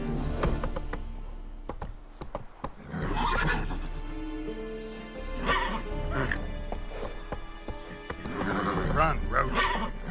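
Roach, Geralt's horse in The Witcher 3, gallops with rhythmic hoofbeats and neighs loudly several times, with game music and other sounds around it.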